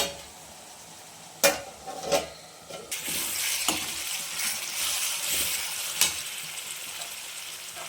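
A spoon stirs and mixes fenugreek leaf curry in a pan, with clinks against the metal early on, then a steady loud sizzle and scraping throughout.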